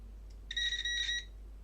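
A continuity tester beeping while a soldered 10-pin connector is checked: one steady electronic tone of about three-quarters of a second with a short pause midway, faint over a low background hum.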